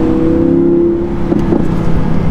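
A supercar's V8 engine rumbles loud and close in a steady, throaty drone with a slight rise near the end.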